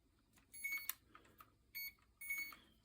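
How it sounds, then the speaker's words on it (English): A drone's electronics emit short, high electronic beeps in bursts while it has no signal during a rebuild, a few separate beep groups repeating with quiet gaps between them, close and fairly faint. "So maybe it's just beeping because it's got no ground / signal."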